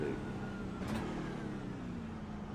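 In iRacing, a NASCAR truck powers out of a tight right-hand corner at the Long Beach street circuit, its engine droning steadily and rising as it opens up, with a brief sharp burst of noise early on.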